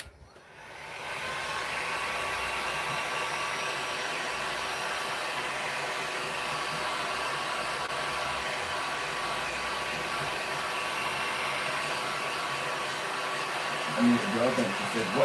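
A heat dryer blows steadily on craft ink, a continuous mid-level whooshing drone that starts abruptly and runs unbroken, with a faint voice at the very end.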